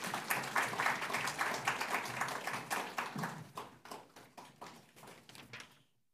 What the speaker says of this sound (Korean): 우리 하나님께 감사하고 선교사님 격려하는 의미로 박수로 맞이하겠습니다